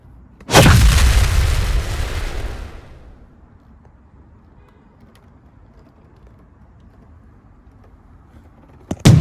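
A single heavy video-game cannon blast booms out, loud and close, then fades into a long quiet tail before another sharp burst at the very end.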